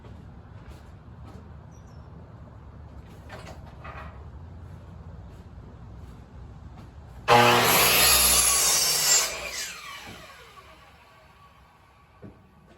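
A handsaw cuts through scrap wood for a three-legged shooting bench in a short burst of loud rasping strokes that taper off, after a stretch of quiet shop noise.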